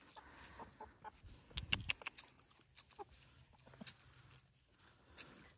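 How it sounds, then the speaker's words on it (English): Backyard homestead chickens cluck and squawk in irregular bursts while they come running for treats, with scattered rustling and shuffling in between and no talking. "Chickens."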